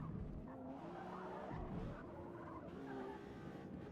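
Car tires skidding and squealing as an A-class car drifts in the Battlefield 6 video game, a continuous smeared screech over steady engine noise, fairly loud and unbroken for several seconds.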